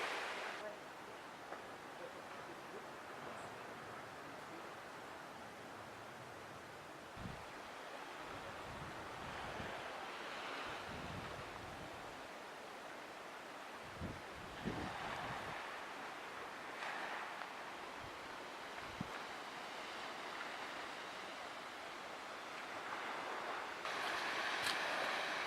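Wind on the coast of Bréhat island, with a steady, quiet rushing roar and distant surf. Low gusty buffets against the microphone come and go.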